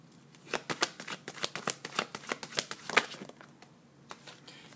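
Tarot cards being shuffled, a quick run of soft papery riffling clicks at moderate closeness, easing toward the end, with no talk.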